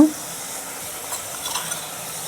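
Chili powder, turmeric and other ground spices stirred into chicken filling in a pan, a soft steady sizzle with faint scraping of the spoon, close up and without talking.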